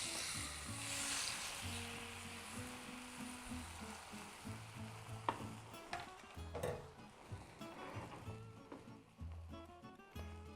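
Food frying in a hot pan gives a faint, steady sizzle with occasional small crackles, heard under a soft tonal background melody.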